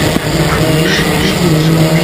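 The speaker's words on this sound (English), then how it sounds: "He brakes late, he locks up once again." Historic Formula Ford race car at a circuit, brakes locking up as tyres skid, a loud continuous engine drone and tyre scrub running steadily for about two seconds with no talk.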